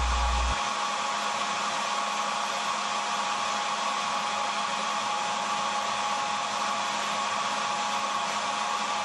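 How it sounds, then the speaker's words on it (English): A hair dryer blows steadily with a constant whooshing hum, close and uninterrupted, no voices, heating a clothes dryer's thermistor during testing. "Apply heat with a hair dryer and keep an eye on the meter."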